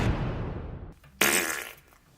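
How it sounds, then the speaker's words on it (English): A loud, close fart with a long low rumbling tail, followed by a sharp, brighter burst that trails off. "Ugh, that was a big fart from you."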